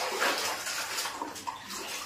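Water runs steadily while clothes are washed in an Indian home, a continuous close splashing gush with a few brief sloshes, fairly quiet overall.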